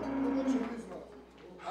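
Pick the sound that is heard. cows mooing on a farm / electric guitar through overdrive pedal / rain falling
cows mooing on a farm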